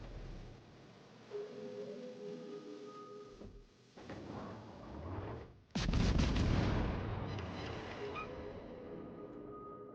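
Booming naval gunfire from the Japanese tier V cruiser Yahagi in the World of Warships game, with rumbling battle noise and a sudden loud broadband blast midway followed by a sustained roar and fainter tonal game sounds.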